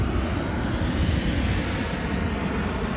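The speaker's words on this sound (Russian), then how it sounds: "Здесь постоянно приземляются самолеты." Airplane coming in to land near the airport by Olympic Park in Adler, a steady, broad engine roar holding at a constant loud level throughout with no voices.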